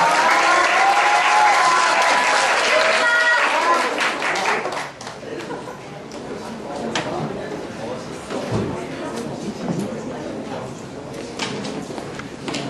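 An audience at a Korean school fusion concert claps to welcome a student dance speaker, a loud burst of applause at first that fades after a few seconds into softer, scattered clapping and room noise.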